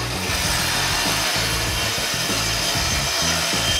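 A power saw cutting side and top panels from 18-inch-wide plywood strips for a mid-century modern media console, a continuous loud buzzing, rasping cut close to the microphone with a pulsing low motor drone, no talking.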